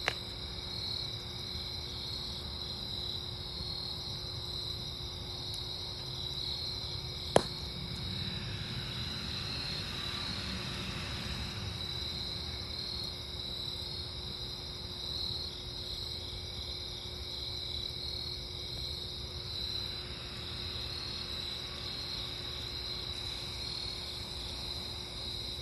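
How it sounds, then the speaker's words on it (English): Crickets chirp outdoors at night in a steady, faint high trilling chorus that runs unbroken for about twenty-five seconds, with a single sharp click partway through and no voices. "The crickets are all over the place back here."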